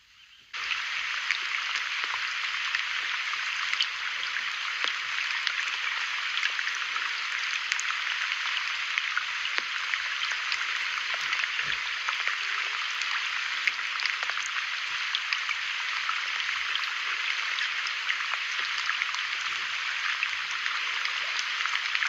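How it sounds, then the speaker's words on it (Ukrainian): Heavy rain pours steadily and densely, a constant loud hiss of drops that holds unchanged throughout with no voices. "дощ іде, як з вітра. Оце поливає, друзі."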